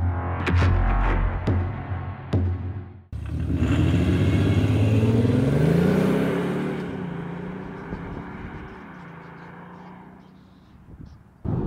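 A 2020 facelifted Audi S5 TDI with a 3-litre diesel engine pulls away and accelerates, a deep throbbing engine note swelling loud and close, then settling into a steadier cruising hum.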